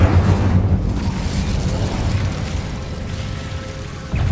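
A loud, deep blast of the Incendio fire spell in Hogwarts Legacy, a heavy roaring burst that rumbles on and slowly fades over a few seconds.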